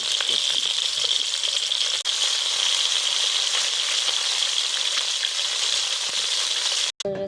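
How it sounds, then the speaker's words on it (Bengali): Kalibaus fish frying in hot oil, a steady, loud, close sizzle and crackle that runs unbroken for several seconds, with a brief clatter near the end. "কালীবাউস মাছ ভাজবো, এখন তেল দিলাম গরমে"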